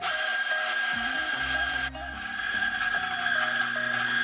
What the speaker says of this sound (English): I'm just going to empty out all the coffee that it's in the Mazzer Mini.